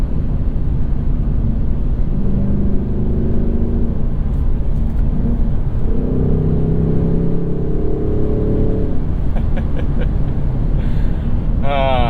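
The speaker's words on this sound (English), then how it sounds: "listen to that motor just sort of make a good sound" A 2024 Ford Mustang GT engine, loud and steady from inside the moving car, droning and rising in pitch through several revs as it shifts along, with someone talking over much of it.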